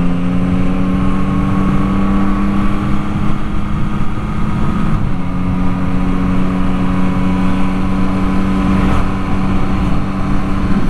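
Motorcycles ride along a canyon mountain road on a warm spring day. A loud, steady engine drone runs throughout, with a brief dip and swell as bikes pass close by.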